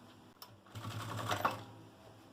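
A sewing machine stitches close along the edge of bias binding to attach a zipper on a clear-window cosmetic pouch. It makes a brief, fairly quiet mechanical whir lasting about a second in a quiet room.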